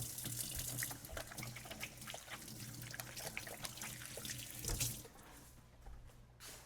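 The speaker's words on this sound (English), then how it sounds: "quick hand wash just in case, I did touch any meat" Tap water runs steadily into a kitchen sink while hands are washed, a continuous close splashing rush with shifting trickles, easing off toward the end.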